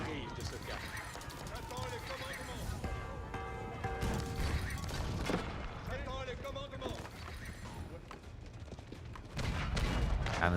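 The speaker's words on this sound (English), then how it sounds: "Cannon spam coming in." Cannon barrages in a match of Age of Empires IV, heavy booms and crashing impacts rumbling continuously beneath steady excited commentary.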